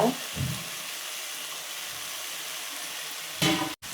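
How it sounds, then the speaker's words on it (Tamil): Carrots and beans fry for vegetable biryani in a low, steady sizzle, with a few louder thuds and stirring bursts near the start and end. "கேரட்டு, பீன்ஸ் ரெண்டையும் நல்லா சேர்த்துக்கோங்க. சேர்த்துக்கிட்டு இதுவும் நல்லா ஃப்ரை ஆகணும்"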